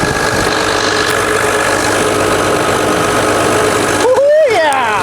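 An excavator engine running during a test after a service day: a loud, steady mechanical drone with knocking vibration, then a rising whine near the end as it revs.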